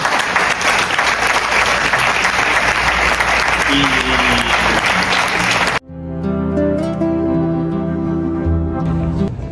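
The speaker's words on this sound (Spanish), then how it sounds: "Un aplauso para ellos." Festival audience at Festival Arancine 2025 in Aranjuez applauds loudly and steadily for about six seconds, then the clapping breaks off abruptly and gives way to sustained music.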